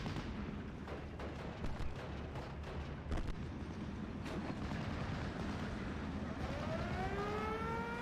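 Battle din from Steel Division: Normandy 44 near Pegasus Bridge, with an infantry gun firing at an M5 tank: repeated booming shots and rumbling explosions over a dense war-game background, with a rising whine near the end.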